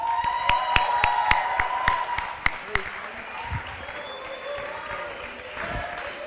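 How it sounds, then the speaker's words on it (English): A few sharp, evenly spaced claps ring out at a school closing ceremony for the carbon footprint team, thinning into a softer murmur of clapping and crowd noise with voices underneath. "Give a round of applause, please."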